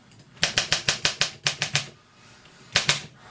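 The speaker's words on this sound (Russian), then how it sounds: "на каретке интервальный рычаг для перевода строки" Line-spacing lever on the carriage of an Olympia SM7 manual typewriter, worked in a quick run of about a dozen crisp ratcheting clicks, then a pause and two more clicks, close up with no voices.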